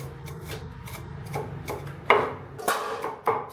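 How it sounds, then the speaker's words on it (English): Peeled shrimp and shallots are chopped on a board, a steady series of close, sharp knife strikes with several louder blows toward the end. "my aunt peels the shrimp and chops them with shallots"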